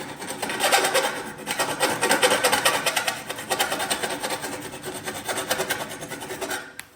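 A hand file rasps back and forth in steady, rapid strokes, close and fairly loud, easing slightly toward the end, knocking the edges off a drilled part in a Harley-Davidson dyno room.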